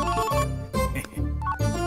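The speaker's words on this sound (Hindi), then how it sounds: "अरे इसे कोई साइलेंट मोड पे रख दो, रिंगटोन भी मुझे उसकी टोन में सुनाई दे रहा है।" A mobile phone ringtone plays loudly in a domestic scene from a Hindi-dubbed romantic film, its musical tone pattern repeating in short bursts with brief gaps, close and without any voices.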